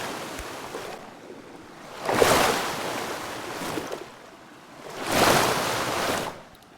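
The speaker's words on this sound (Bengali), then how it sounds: "তোমরা নিশ্চয়ই সমুদ্রের ঢেউর আওয়াজ পাচ্ছ।" Sea waves roll onto a rough beach where a speedboat waits, two big surges crashing and washing up loudly a few seconds apart over a constant windy roar.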